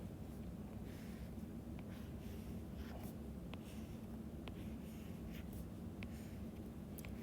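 Pencil drawing boxes on paper, a steady scratchy scribbling that continues through the whole stretch, close by and fairly quiet with a few brief sharper strokes.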